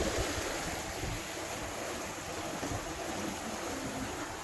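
A boat running on a Torqeedo Cruise electric outboard, with a steady low churn of water and wind noise throughout and no distinct motor whine standing out.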